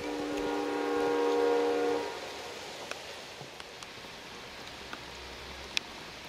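A freight train in Central Florida rolls past with a horn blast in the opening two seconds, then fades quickly to a faint rumble and quiet ambience with a few small clicks.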